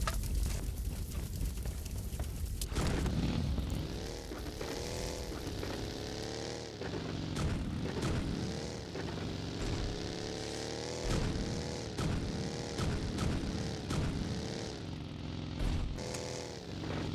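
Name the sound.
gunshots in the video game PUBG Mobile Lite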